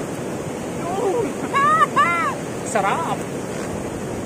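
A strong river current after rain rushes as a continuous broadband roar at the Paitan River in Naujan, Oriental Mindoro, while a person speaks briefly over it.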